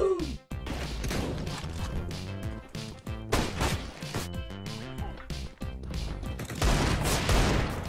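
Video game gunfire during a headshot attempt in a multiplayer shooter, with loud repeated shots and crashing impacts packed densely across the whole stretch over game music and noise.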